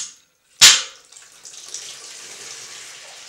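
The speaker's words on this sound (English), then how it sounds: "Gently pull the radiator away from the wall, pour any contents into the bowl." Water from a heated towel rail radiator pours into a bowl: a sharp splash onset followed by a thin, fading trickle and drips.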